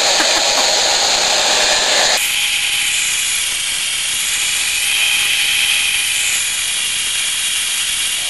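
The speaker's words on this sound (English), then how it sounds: "The upside to using the heat gun, keeps it pretty warm in here." A heat gun blows hot air onto PVC during dome construction, a loud, close, steady roaring hiss that abruptly drops to a softer whoosh partway through and then keeps blowing evenly, with no talk.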